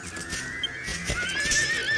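A horse in the video game Dragon Quest VIII whinnies loudly and continuously while bucking, a close, strained neigh over game ambience.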